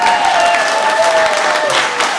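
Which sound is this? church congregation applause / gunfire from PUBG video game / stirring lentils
church congregation applause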